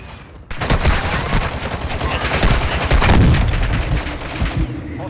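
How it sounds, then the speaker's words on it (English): Mortar strike explosions and dense gunfire in the Call of Duty video game, a loud, continuous barrage of rapid shots with heavy booms that starts abruptly and keeps going throughout. "Mortar strike inbound now."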